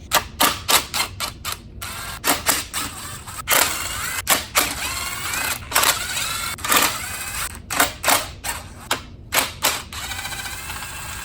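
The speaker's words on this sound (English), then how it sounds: "we'll loosen those and see if we can get the manifold up" Manifold bolts being loosened on a 2006 Ford Fusion 3.0 V6 engine, with a quick series of close, sharp mechanical clicks and ratcheting bursts in an uneven rhythm.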